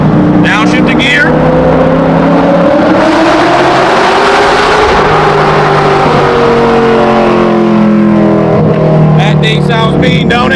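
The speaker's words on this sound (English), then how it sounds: "I got to do a tunnel blast" A Corvette engine revs hard in a tunnel and climbs in pitch, roaring loudly with an echoing, enclosed quality, then drops back as it downshifts.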